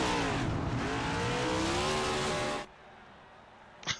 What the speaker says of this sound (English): celebrate their win here in Charlotte with some synchronized burnouts